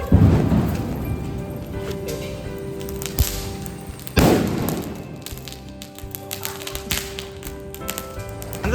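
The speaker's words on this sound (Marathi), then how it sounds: "खूप मस्त फटाके लावायला मजा येते" Loud Diwali firecracker blasts go off close by, two big bangs with rumbling echoes and a few smaller pops and crackles between them.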